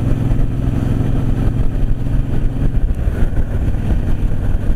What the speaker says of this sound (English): Honda Fury.